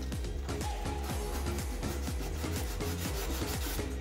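Sandpaper rubs back and forth over a homemade Captain Rex helmet armor piece, a quick regular rasping rhythm of short strokes, close but fairly quiet, with no voices.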